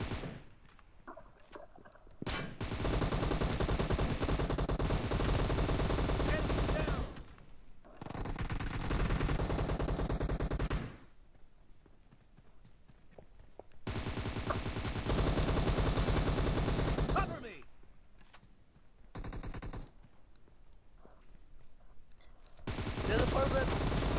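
Gunfire in the mobile battle royale game PUBG Mobile comes in long, dense bursts of rapid automatic shots separated by brief quiet gaps, loud and close, with excited voices talking between and over the firing.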